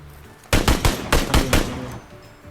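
Gunfire in a shooting video game: a loud, close burst of about six rapid shots, then a fading tail.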